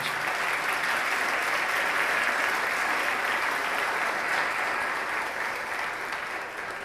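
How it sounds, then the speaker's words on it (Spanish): A church congregation applauds during a sermon, steady dense clapping that stays loud and even throughout before easing slightly at the end. "Dale un fuerte aplauso a Jesús por ello."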